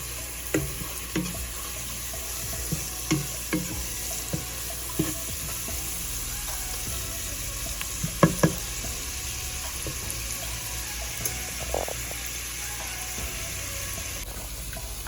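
Cabbage fries in a pan with a steady close sizzle, and a few sharp clanks and scrapes from stirring break through now and then. No one speaks.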